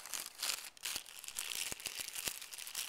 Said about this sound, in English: I'm going to put it right in the bag